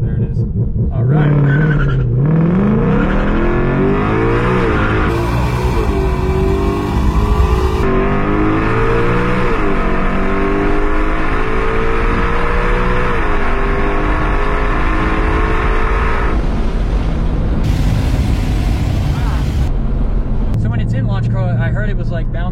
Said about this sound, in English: I'm trying to get it to go into launch control.